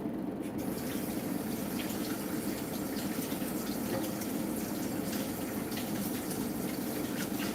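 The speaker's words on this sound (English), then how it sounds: "I just got to rinse some things here" Kitchen tap running into a sink while things are rinsed under it, a steady loud gush of water throughout with faint clatter on top.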